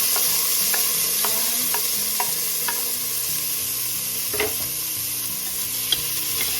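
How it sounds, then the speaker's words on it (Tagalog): Chopped tomatoes tossed into garlic frying in oil in a pan, a loud continuous sizzle with repeated spatula scrapes and clinks throughout, close up and with no talking. "syempre, ilagay na natin ang kamatis"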